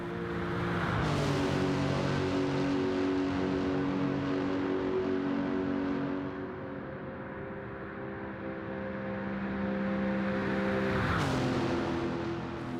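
The engine of a Lexus SC430 GT500 '08 race car in Gran Turismo 7 drones loud and close, holding a steady high-revving tone, dipping briefly midway, then climbing again with a sharp shift.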